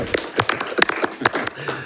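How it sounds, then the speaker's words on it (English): A few board members clap at a school board meeting, sparse and uneven hand claps rather than a full ovation, close and distinct, each clap separated by short gaps. "Yeah, we can clap."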